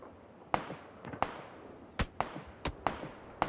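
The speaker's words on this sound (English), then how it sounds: "He's shooting from somewhere." Sharp gunshots crack in PUBG around Georgopol, about eight separate reports spaced irregularly over a few seconds, each a short punchy snap, moderately near with no talking over them.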